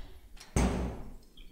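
A single sharp knock or thud in a real room, distinct from the game being played, lands fairly close and loud, then rings briefly into quiet.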